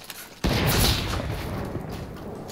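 A sharp, loud gunshot from the video game Fortnite cracks once near the start and leaves a long, rumbling decay that fills the rest of the moment, with no voices over it.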